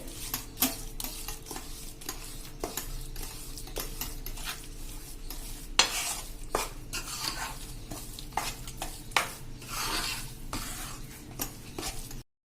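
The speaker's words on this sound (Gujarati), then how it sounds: "હલાવતા રહેશું ગોળ મિક્સ થઈ જાય ત્યાં સુધી" Jaggery mixture for mohanthal stirred in a pan, repeated scraping strokes of a spoon against metal with soft sizzling underneath, close and moderately quiet, no talk.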